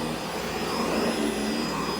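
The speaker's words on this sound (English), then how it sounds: "I'm going to use the commercial vac, just upright, get as much of the stuff out of there as I can." A commercial upright vacuum cleaner runs continuously on a staircase, a loud, steady, broadband whooshing roar with a high motor whine, close up and with no talking.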